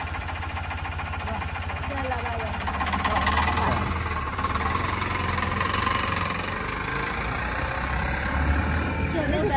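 A car engine runs with a low, steady rumble and faint knocking throughout, close and constant, with people talking over it inside the vehicle.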